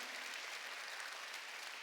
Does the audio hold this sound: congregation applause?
yes